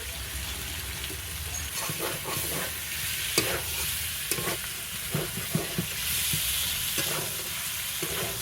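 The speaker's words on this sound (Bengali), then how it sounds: "এটা তো মশলার সঙ্গে কিছু সময় কষিয়ে নিতে হবে" Pointed gourd and potato pieces stir-fried with spices in a hot pan, a steady close sizzle with a scattering of scraping stirs and clinks, no one talking.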